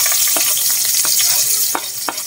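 Garlic and onion fry in a pan with a steady close sizzle, broken by light scraping taps of a stirring utensil, with no talk.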